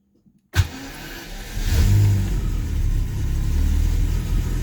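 A warm 1989 Jaguar XJS 5.3 V12 with a cut-out and no-start fault bursts into loud cranking after a moment of silence. A continuous engine roar follows and swells after about a second, then holds steady with no voices.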